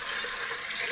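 Water is poured into a pot of chana dal lentils already salted and spiced with turmeric, a steady hissing splash that runs continuously and close without pause.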